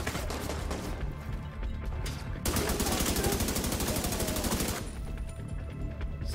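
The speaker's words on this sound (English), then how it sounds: "Someone else was shooting me, huh?" Gunfire in The Division 2 video game, scattered loud shots giving way to a dense rapid automatic burst lasting a couple of seconds, then quieter shots trailing off.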